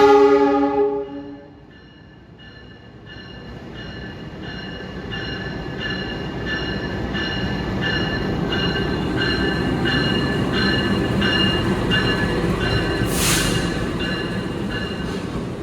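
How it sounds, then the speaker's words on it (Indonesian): Locomotive of the Sancaka passenger train at a station, sounding a loud horn blast at the start, followed by a long steady rumble of the train with faint wheel squeal and a brief hiss near the end. "Nah itu lokomotifnya kereta api Sancaka ya"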